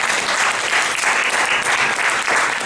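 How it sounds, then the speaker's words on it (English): A conference audience applauds a panel loudly, steady dense clapping that continues without a break. "We give our panel a round of applause."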